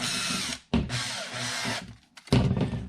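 Power drill boring holes through a part of an RC monster truck conversion on an Axial Ryft, in bursts of close, loud whirring with a short pause and restart.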